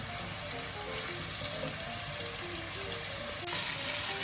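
Chicken tikka masala with chopped tomatoes cooks on a hot tawa, giving off a steady, close sizzle and crackle of frying that holds an even level throughout, with no talking.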